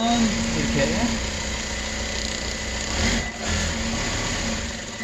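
A sewing machine stitching a rolled fabric hem runs with a steady, close mechanical buzz that lasts the whole time, dipping briefly near the middle.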